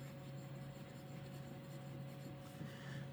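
Fountain pen scratching across cheap copy paper while testing Noodler's Habanero ink, a faint, soft continuous scratching with slight irregular strokes, close up and quiet, with no talk.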